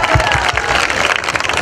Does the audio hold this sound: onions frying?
no